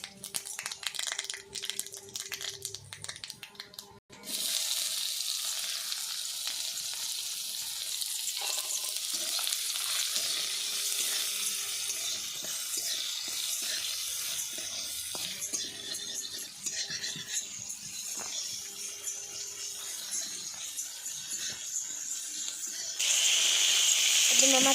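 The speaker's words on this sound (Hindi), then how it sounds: "एबे मामा प्याज पकेबे" Chopped onions fry in hot oil for a home-cooked Odia moong dal and cabbage dalma, giving a steady, close sizzle. The sizzle runs on continuously, with occasional stirring clatter and faint background sounds.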